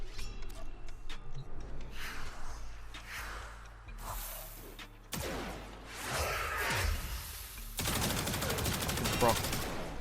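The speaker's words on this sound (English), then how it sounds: "I have not used this weapon with Wisp yet, so this is a first for me" Rapid video-game gunfire from the Athodai pistol in Warframe, with bursts of quick shots, whooshing ability effects and loud crashing blasts, dense and layered over game background sound.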